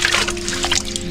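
Water poured into a plastic foot valve, a brief close trickle and slosh with bright splashing texture.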